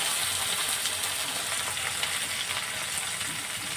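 Chopped tomatoes fry in hot oil in a pan, giving a steady, close, continuous sizzle with faint crackles and no talk.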